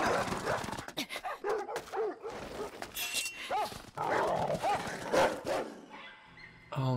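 Dogs bark in a Vinland Saga anime episode, sharp yips and woofs in uneven bursts mixed with whimpers, alongside voices talking.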